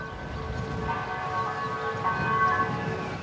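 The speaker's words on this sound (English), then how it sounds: "Listen to the bells." Church bells ring out across a mountain valley in Italy, a steady sustained tolling with lingering metallic tones heard from a distance over a soft ambient background.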